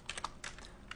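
Quick clatter of keystrokes on a computer keyboard, a handful of sharp clicks in an uneven burst, close and fairly quiet.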